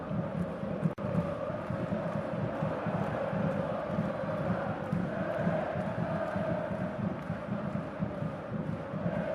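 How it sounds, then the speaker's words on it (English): Large football stadium crowd during a Copa del Rey match between Talavera and Real Madrid, a dense continuous roar of clapping and crowd noise, steady and distant-sounding, with no separate voices standing out. "Who they clapping for?"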